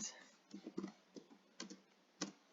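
Keys clatter on a computer keyboard as a search query is typed, arriving in a few quick, uneven bursts of soft clicks with short pauses between them. No voices are heard.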